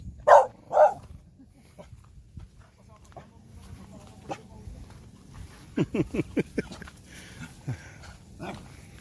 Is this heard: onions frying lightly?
no